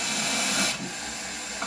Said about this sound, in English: you'll want to open the cylinder cocks or remove any water